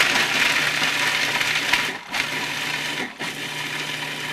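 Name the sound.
food processor pulsing walnuts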